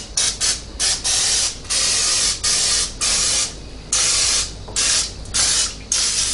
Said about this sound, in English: that's where we use our pan spray here